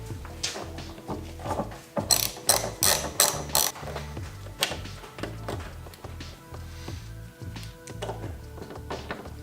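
A ratchet removes fasteners during a car wing riser kit install, a close run of quick clicking bursts with metallic taps and thunks between them.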